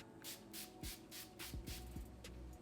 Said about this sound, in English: Let's spray a little bit more.